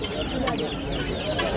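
Chickens cluck and squawk at a busy poultry market in Fatullah, a dense, continuous chatter of many birds close by with sharper calls rising above, mixed with background crowd noise.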